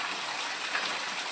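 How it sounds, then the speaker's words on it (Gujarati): Heavy monsoon rain pours down on a Gujarati village, a steady, dense hiss that fills the whole stretch evenly, with no voices. "વરસાદ એકદમ વરસી ગયો છે"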